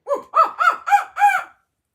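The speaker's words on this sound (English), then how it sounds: "she demonstrated a barn owl hoot when she went to sleep" An interactive Spin Master Wizarding World Hedwig owl toy gives five quick, hoarse, rising-and-falling electronic calls meant as a barn owl hoot, close and loud, each about a quarter-second long, then silence.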